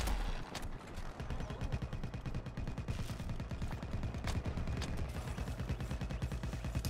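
Sustained rapid automatic gunfire in Plants vs. Zombies: Battle for Neighborville, a steady rattling stream of shots running loud and continuous throughout with no talking.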